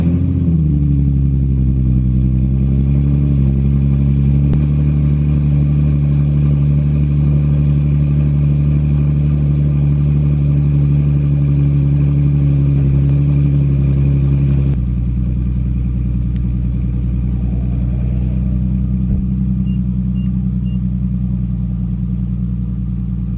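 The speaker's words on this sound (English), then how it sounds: "As always, we need a cold start." A Nissan 370Z fitted with an exhaust silencer cold-starts into a loud, steady high idle with a brief rev flare at the start, then drops to a lower, calmer idle partway through, with no voices.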